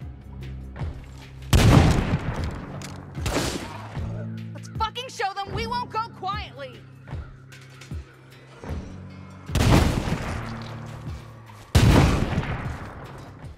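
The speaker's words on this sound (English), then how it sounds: "They're firing 50 cals" Heavy .50 caliber gunfire in the State of Decay 2 video game: loud booming shots at the start and end around a calmer middle, with a voice talking over it.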